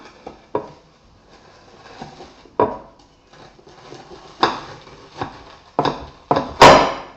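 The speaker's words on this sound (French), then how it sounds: "Et maintenant, je vais couper des parts." Knife slicing portions of a Kinder Country–style dessert, giving a series of separate knocks and taps on a plate or board, irregular and close, ending in a louder scrape.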